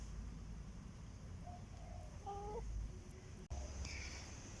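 Chickens near their coop make a few faint, short clucks and calls over a quiet outdoor background.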